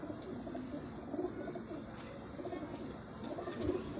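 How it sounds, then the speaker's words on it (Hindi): Chuha breed pigeons, broad-chested with large heads, cooing steadily in a low murmuring drone, several birds overlapping nearby without pause and no talk. "अब ये चूहे कबूतर हैं जी"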